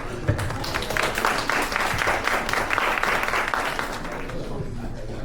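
A crowd at an outdoor evening coding event applauds its lab assistants with a steady round of clapping that swells in the middle before easing off.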